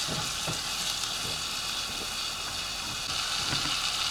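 Chopped onion sizzling and frying in a pan for a Salisbury steak gravy, a steady dense hiss with soft intermittent crackles, close and continuous.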